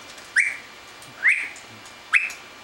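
A bird gives three short, bright rising whistles, evenly spaced about a second apart, close by in a quiet room.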